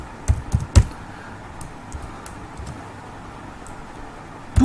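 Python code being typed on a computer keyboard: a quick burst of clicky keystrokes at the start, then sparse isolated taps over a quiet room hum, and a louder clack at the very end.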